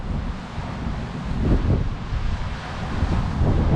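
A strong, bitter north-easterly gale roars across an open beach on the Cardiff foreshore, with loud, continuous buffeting on the microphone and gusts surging and easing.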